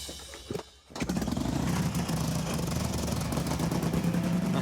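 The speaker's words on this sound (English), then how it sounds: "When you hear that engine, that big twin, it comes alive." A vintage big twin motorcycle engine fires up after a brief sputter, then settles into a loud, steady, throbbing idle close by, with a rapid, even thump of its pulses.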